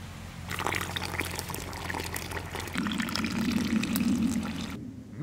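Milk pours steadily into a container for Azerbaijani baklava dough, making a continuous close liquid trickle that thickens into a bubbling fill toward the end before stopping abruptly.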